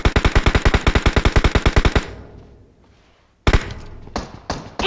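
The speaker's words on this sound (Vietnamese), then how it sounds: "Bắn liên tục." Rapid automatic gunfire in a shooter video game, a loud burst of about twenty evenly spaced shots over two seconds, then a quiet gap before further sharp, noisy game sounds.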